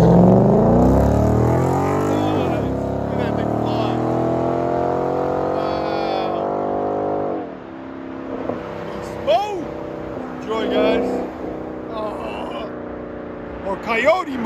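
A blue 2019 Ford Mustang GT 5.0 Coyote V8 convertible with an MBRP axle-back exhaust and H-pipe revs up in a long rising roar that holds and then drops off. Several short, sharp blips and crackles follow at close range.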